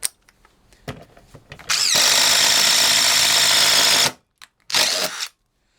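An impact driver set to third speed spins a 1-inch Bosch Daredevil spade bit, hammering loudly for about two seconds, stopping, then giving one more short burst after a pause, with some handling noise before it starts.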